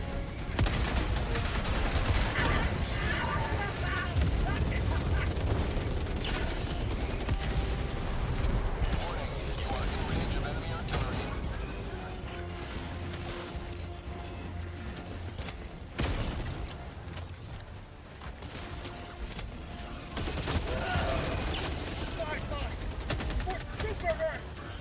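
Enemy artillery and gunfire in a combat video game, dense rattling bursts and heavy booms that sweep on and off, with in-game voices speaking over the barrage.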